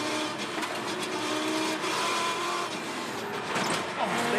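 Touring Car Masters race car at Queensland Raceway making contact and spinning off toward the wall, a loud continuous engine roar with harsh scraping and tire noise, a commentator's voice talking over it throughout.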